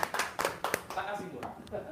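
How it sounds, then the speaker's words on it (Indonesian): A few people clap in a small group, sparse and uneven with distinct separate claps that fade out, mixed with voices talking. "Tepuk tangan dulu dong"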